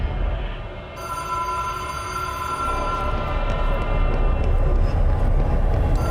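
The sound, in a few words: telephone ringing in the video game Control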